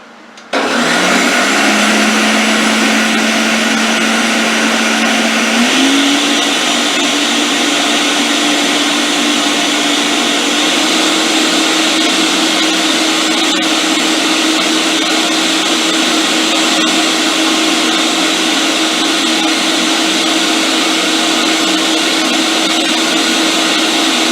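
A Ninja blender on its puree setting runs loud and continuous, whirring through a batch of homemade tomato soup at a steady high pitch that rises slightly a few seconds in.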